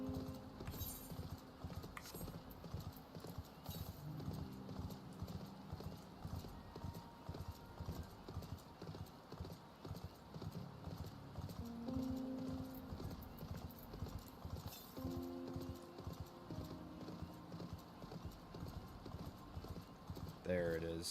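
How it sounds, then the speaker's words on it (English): A horse mount in Final Fantasy XIV trots with steady, rhythmic hoof clip-clops that continue throughout, set under game background music, with a player talking intermittently. "Got my little horsey."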